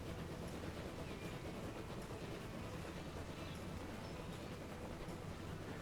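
Steady train ride in the video game Transport Fever 2, a continuous low rumble of rail rolling with faint clatter, constant and unbroken with no talking.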